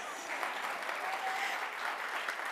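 Applause at a forum on joy and human thriving: a soft, steady patter of many hands clapping together, fairly distant and even throughout.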